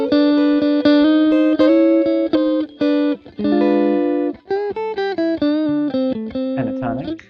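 Electric guitar soloing over a single-chord vamp, weaving passing tones between scale and chord notes in a steady stream of sustained, bending lines with a light effects sheen, played alone and upfront.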